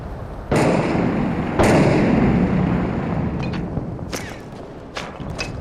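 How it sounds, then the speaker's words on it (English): Gunfire from snipers in a video game, two sharp loud blasts with long decaying tails, followed by a few fainter distant cracks. "We're taking inconsistent fire."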